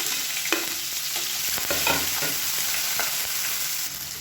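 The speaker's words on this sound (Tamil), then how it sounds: "இப்போ இதில் பொடியாக கட் பண்ண வெங்காயம் சேர்த்துக்கலாம்." Chopped onion hits hot oil already holding fennel, cinnamon and curry leaves, giving a loud, continuous sizzle with scattered stirring scrapes and no talking.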